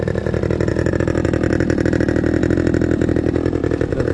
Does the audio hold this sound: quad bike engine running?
yes